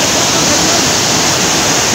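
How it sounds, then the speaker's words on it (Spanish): A powerful waterfall at Velo de Novia near Eloxochitlán, Oaxaca, swollen by October rains, roars as a steady, loud, dense wash of noise with no pauses and no voices. "Vamos a ver aquí a el poder del agua,"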